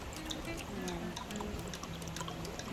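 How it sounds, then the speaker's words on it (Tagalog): Water poured into a dough mixture while making carioca, a soft steady trickle running under a faint background hum, fairly close. "ako is ang ilalagay natin ay tubig lang muna ang ilalagay natin"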